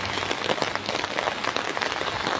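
Steady rain pours down outdoors in the Congo, a dense continuous hiss of drops pattering on a surface, loud and close, with no voices.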